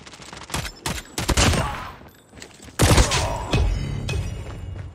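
Dense bursts of gunfire from a weapon in the Call of Duty video game, rapid cracks and blasts layered with impact clatter, loud and nearly continuous.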